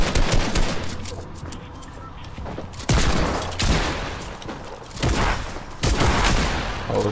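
Heavy gunfire in the video game Fortnite, with sustained automatic bursts and booming shots rolling in loud waves over several seconds, close and dense, with no talk.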